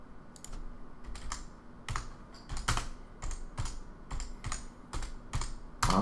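Fingers typing on a computer keyboard nearby, irregular bursts of sharp clicky keystrokes with short pauses between them and a faint steady hum underneath.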